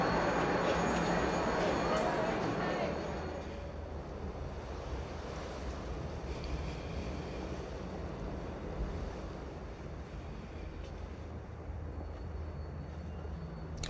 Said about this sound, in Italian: Fuori c'è un vento pazzesco.